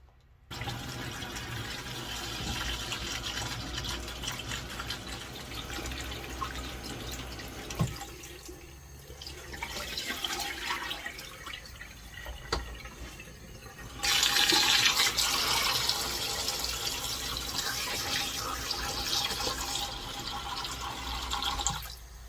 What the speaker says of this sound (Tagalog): hugasan ko po ito bago ilaga